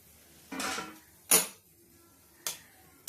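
A metal pot lid clatters and clinks in a few separate knocks and scrapes, close and fairly quiet, in a home kitchen where fish curry is being made.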